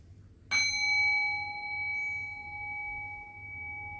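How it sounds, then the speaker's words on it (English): A meditation bell is struck once, its bright ringing tone sustaining and slowly fading over a quiet room with faint low background hum. "So I'll ring the bell and I'll guide us into silence."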